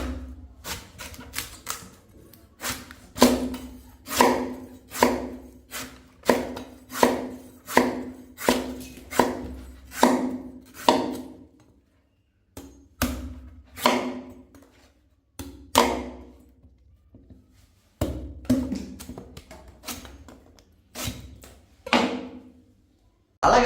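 A coconut is cut with repeated chopping blows, sharp close knocks landing in a quick steady rhythm that pauses and resumes, each strike ringing briefly with a woody, hollow tone.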